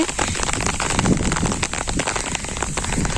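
Steady heavy rain pouring down, a dense continuous hiss with drops pattering on surfaces throughout, loud and close, no voices.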